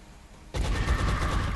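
Sustained burst of heavy gunfire from a heavy soldier's weapon in the turn-based strategy game XCOM: Enemy Within, starting abruptly after a quiet moment and roaring on loudly and densely to the end.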